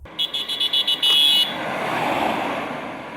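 Modified pickup truck on the road, with a rapid series of short horn toots, one longer blast, then a steady engine and road rumble heard from aboard the vehicle.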